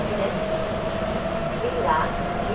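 A Sapporo Municipal Subway 8000 series train on the Tozai Line, with Toshiba IGBT traction equipment, runs between stations with a steady low rumble and a faint rising motor whine, heard from inside the car.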